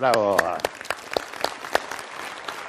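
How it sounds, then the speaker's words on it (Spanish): At a motivational conference lecture, a voice opens briefly, then scattered audience claps ring out at a loose, uneven rhythm, fairly close and moderately loud. "Un aplauso."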